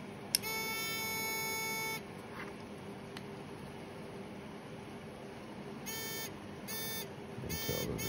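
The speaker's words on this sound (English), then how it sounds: "So we can use our little metal detector here." A small handheld metal detector swept over a nickel iron meteorite gives out bursts of high electronic beeping: one long tone, then several short repeated beeps against a quiet background.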